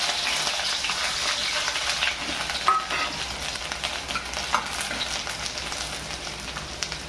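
Ginger, garlic and chilli fry in oil in a wok, a steady crackling sizzle with a few sharp pops, close and moderately loud with no talking.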